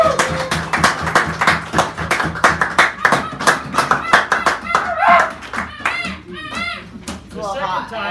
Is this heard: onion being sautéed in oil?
no